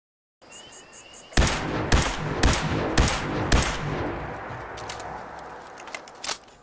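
Laser sniper rifle shots in a Fallout game, several loud, sharp single blasts at roughly one-second intervals over a steady rumbling backdrop, then a final pair of lighter cracks near the end.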